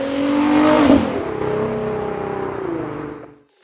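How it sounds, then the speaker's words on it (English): Nissan GT-R V6 engine revving hard, a close rising roar that peaks early, then settles into a sustained drone before cutting off abruptly at the end. "probably the best sounding V6 ever made, the Nissan GTR"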